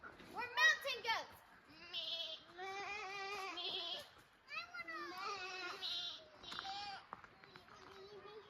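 Children bleat like mountain goats, voices imitating the animal in a series of wavering, sing-song calls and overlapping one another, close and lively on a rocky mountain slope.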